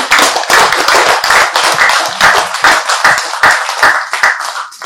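Audience hands clap loudly and steadily together, a dense, sustained round of applause at an event with no talking over it.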